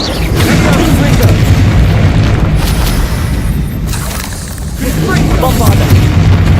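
A Confringo fire spell exploding during a Hogwarts Legacy battle: loud, rumbling booms within a continuous, dense combat mix, briefly dipping then surging again, with in-game voices heard.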